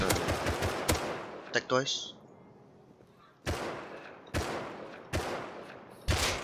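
Gunfire rings out during a PVP fight in the video game Rust: sharp, loud shots in quick bursts and scattered single cracks, separated by quieter gaps, with a player speaking briefly.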